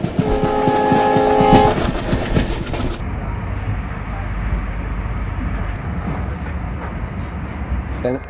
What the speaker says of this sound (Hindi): ट्रेन ने अपनी सीटी बजा दी और यहाँ से खुलने के लिए तैयार